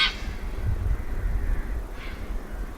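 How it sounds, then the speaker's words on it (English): Faint bird calls about two hours before sunrise under artificial night lighting, a sharp cry at the start and another near the end, over a low rumbling background. "though the sun will rise after 2 hours, you still listen, some birds are singing"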